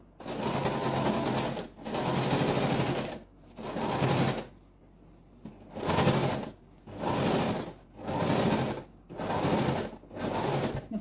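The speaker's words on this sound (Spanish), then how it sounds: "Vamos a coser todo el contorno." A sewing machine stitches around the edge of a foldable fabric pouch, running in eight close, steady whirring bursts separated by brief pauses.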